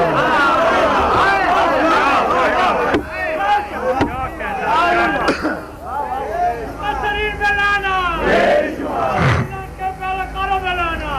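A crowd at a religious majlis gathering raises loud chanted slogans in rising, overlapping bursts, many voices roaring together close and full, with shouts swelling and fading over a noisy hall.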